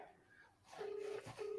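Telephone keypad tones beep as a phone number is dialed: two steady beeps, the second cut short, loud and close over faint background noise.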